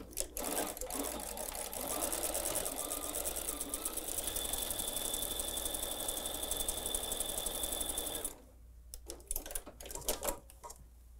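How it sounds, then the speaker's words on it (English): A sewing machine stitches fabric compartments in a steady, fast mechanical whir for about eight seconds, then stops, leaving a few soft clicks and handling sounds. "So join me over at the sewing machine."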